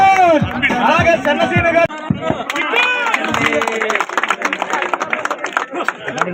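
A crowd claps at the prize ceremony of the CSPL cricket tournament in Bheemili, a scattered patter of applause that keeps going under someone talking loudly nearby.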